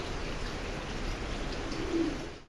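Soft, low cooing from racing pigeons murmurs continuously in the background, muffled and steady with no other sounds standing out.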